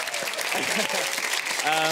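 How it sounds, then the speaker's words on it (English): Audience at a Strictly Come Surrey dance evening applauding Liam's dancing, a steady wash of clapping throughout with a voice talking over it near the end. "I think a round of applause for Liam's dancing in between, right?"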